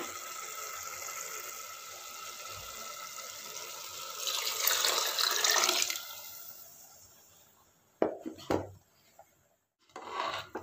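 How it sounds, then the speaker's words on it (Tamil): Water pours steadily into a pot of cooked avarai paruppu sadam rice for several seconds, swelling louder before tapering off, followed by a few short clattering knocks. "இப்போ அதே கப்பில் 3 கப் அளவு வந்து தண்ணி சேர்த்துக்கோங்க"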